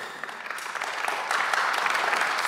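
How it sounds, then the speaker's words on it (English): Audience applause at a Clojure programming conference talk, a dense patter of clapping that swells partway through and stays steady and fairly close for a couple of seconds, with no voices over it. "give yourself a round of applause"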